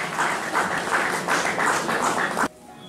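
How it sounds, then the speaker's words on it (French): Congregation at a Congolese community church service clapping together, a brisk, loud burst of applause that stops abruptly. "Applaudissements, s'il vous plaît"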